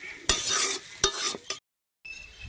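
Water hits a sizzling cauliflower roast in a pan, producing sharp bursts of hiss and stirring clatter, then a brief silence and a quieter simmer.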